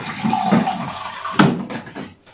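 Waste water from a home water purifier runs into a sink as a steady, loud splashing stream, with a sharp knock partway through before the flow fades.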